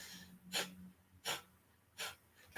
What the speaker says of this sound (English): I'm breathing through my nose, okay?